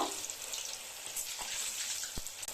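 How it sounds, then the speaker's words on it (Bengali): Pakoras made from maida batter deep-fry in hot oil, a soft continuous bubbling hiss with a few faint pops and clicks, fairly quiet and close, no talking. "এবার বাকি পকোড়াগুলো এইভাবে ভেজে নিই।"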